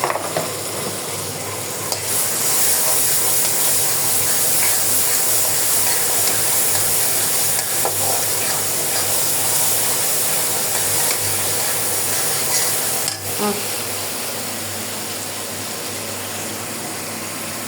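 Garlic paste fries in hot oil in a pan for a fish curry with potato and jackfruit seeds, a loud, steady close sizzle with faint scraping stirs throughout and no voices.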